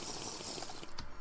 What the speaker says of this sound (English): Let's just get one more drink of water before we go.